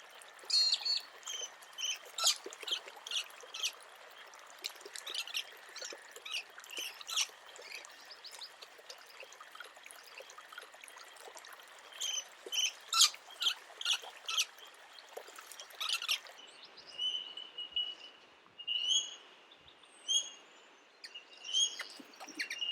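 Scaly-breasted lorikeet calls in a Sydney setting: a busy run of sharp, high chirps and screeches repeating for over twenty seconds, moderately close, with no talking.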